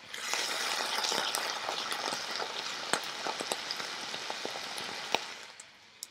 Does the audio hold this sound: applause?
no